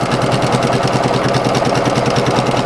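Sewing machine running steadily while stitching rag quilt squares, a loud, continuous motor whir with a fast, even rhythmic chatter of the needle throughout.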